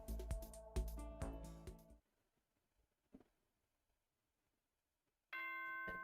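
A two-tone electronic ding-dong chime from the video game Danganronpa: Trigger Happy Havoc, ringing clearly, then a quiet pause before another bright chime starts at the end.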